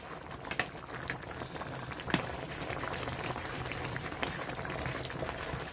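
Chop suey bubbling in a pot: a steady, soft bubbling and popping simmer that runs on evenly throughout, close and fairly quiet with no talk.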